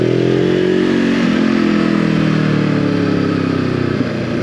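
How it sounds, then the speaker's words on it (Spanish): A 2023 Voge 525 ACX motorcycle engine revs hard toward its limit, a loud, sustained rising drone, close up, with the pitch climbing steadily and easing near the end. "Vamos a apretarlo, a tope. ¿Veis? Sube de vueltas muy rápido."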